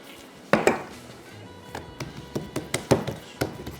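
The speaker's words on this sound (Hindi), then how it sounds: "तो यहाँ पे मैं जो डो है इसको आराम आराम से बेलना शुरू करूँगा।" A rolling pin working sweet kachori dough on a wooden board gives a run of sharp taps and knocks, sparse at first and then a quicker irregular rhythm, close and clear with no talking.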